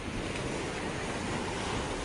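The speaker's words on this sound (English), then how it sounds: "the sky suddenly turns black and the wind picks up with a wild storm battering the ship" A stormy sea pounded by heavy waves under strong wind: a dense, unbroken roar of surf and gusting air, loud and close throughout, with no talking.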